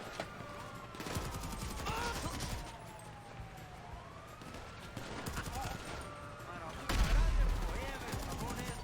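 GTA 5 Online gunfire in a Criminal Enterprises mission, bursts of rapid shots rattling repeatedly over wailing police sirens, with a heavier blast toward the end and voices talking in the background.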